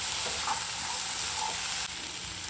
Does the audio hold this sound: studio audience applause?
no